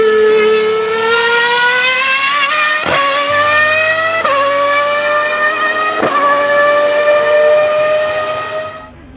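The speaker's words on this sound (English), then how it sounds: "Ferrari 3-litre V12 412 T2, one of the last V12 F1 engines, famous for its incredible wail." Ferrari 412 T2 Formula 1 car with a 3-litre V12 engine, a loud, piercing high-revving wail climbing through several gear changes with brief dips between shifts, then fading out at the end.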